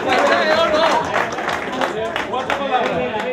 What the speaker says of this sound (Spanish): Chipi Show, fuerte aplauso a Chipi Show.